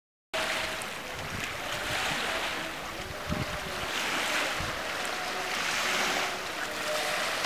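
River water lapping around the peninsula of Medina Cheikh on the Senegal River, near a zawiya, heard as a steady broadband wash with soft surging swells and some wind, without speech.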